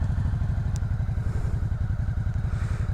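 A new motorcycle running just after starting, its engine settled into a loud, close, steady idle with a fast even thumping pulse throughout, and no talking over it.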